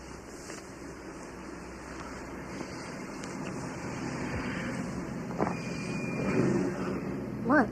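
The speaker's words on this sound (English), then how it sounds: "It's Jennifer's car." A car arrives outside, its engine rumbling faintly at a distance and slowly growing louder with a little revving, set against steady wind and background noise with no talk.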